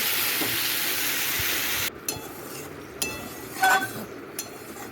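Fish curry (machher jhal) frying in a pan gives a steady loud sizzling hiss for about two seconds, then drops to a quieter simmer with a few light metal clinks of a utensil against the pan.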